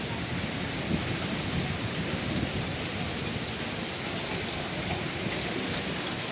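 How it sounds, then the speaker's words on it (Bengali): A heavy hailstorm hammers down in Mirpur, Dhaka, as a dense, loud, unbroken roar of falling ice and rain. "ঢাকা মিরপুর 1 নম্বর ভরপুর শিলাবৃষ্টি হচ্ছে।"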